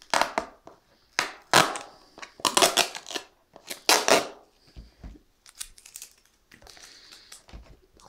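Sharp crinkling and ripping bursts of tape being pulled off Pokémon Shiny Legends booster pack packaging, repeated in irregular spurts with short pauses between, close and fairly loud.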